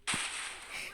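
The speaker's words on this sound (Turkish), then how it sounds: "Aha benim araba patladı." A car explodes in the video game Madout 2: a sudden sharp blast erupts and rolls into a long bright hissing roar, loud and continuous.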